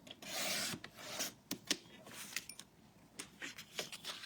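Paper trimmer slicing labels off background papers, with a soft sustained rasping slide followed by a string of faint, brief scratchy cuts and taps, quiet and close.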